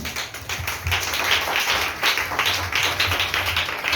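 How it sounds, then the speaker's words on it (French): A church congregation claps together in praise of Jesus, a dense, continuous patter of many hands with slight rhythmic surges, moderately loud and without voices over it. "Acclame Jésus"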